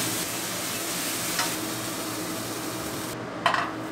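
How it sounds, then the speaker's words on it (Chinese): Water spinach is stir-fried in a hot wok, giving a continuous loud sizzle with a brief scrape of the spatula near the start and a sharper clatter of metal at the end. "我炒到镬气都出来了"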